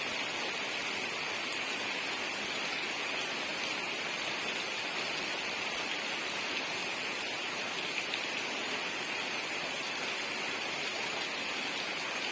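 Steady rain falls on a rainy day, a dense, even hiss of drops on surfaces that continues unbroken and fairly close throughout, with no voices.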